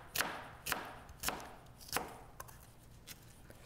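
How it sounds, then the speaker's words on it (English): A knife chops small peppers into strips on a cutting board, four distinct sharp cuts at an even pace followed by a couple of fainter taps, quiet and close with no talking. "So I just cut it into little strips like that."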